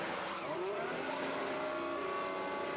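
Formula 1 race cars in a racing video game set at Austria, engines whining and shifting pitch continuously with faint tyre squeal, loud and steady with no talking.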